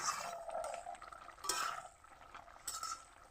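Spoon stirring a mixed five-vegetable curry in a pan after water is added, with soft scraping and a few light clinks against the metal, quiet and close.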